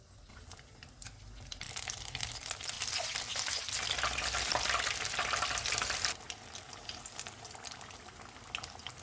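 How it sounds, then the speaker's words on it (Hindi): Fish pakora pieces deep-frying in hot oil on a medium-low flame, a bubbling, crackling sizzle that swells after a moment, holds loud and close, then drops to a quieter steady fry. "अब हम इसको फ्राई कर लेते हैं। ऑयल को मैंने गर्म होने के लिए रखा हुआ था। ऑयल गर्म हो गया है।"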